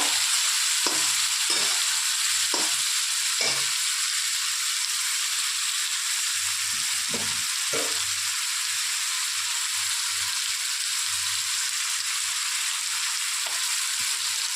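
Prawns fry in a spice paste with a constant close sizzle, broken by the occasional scrape and tap of a spoon stirring the pan.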